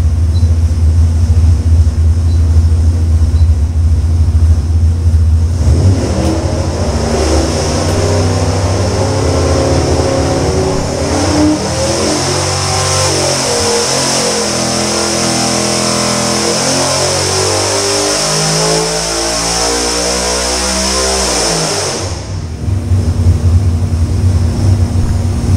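An engine on a dyno makes a pull with an Aerospace Components vacuum pump and no belt, loud and close: steady idle, then a long rising rev climbing for about fifteen seconds before cutting back to idle.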